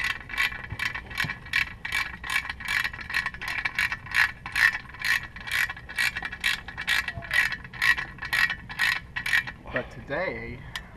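A hand ratchet snugs sway bar bolts on a Scion FR-S, giving a quick run of evenly spaced sharp clicks up close, ending with a brief metallic rattle.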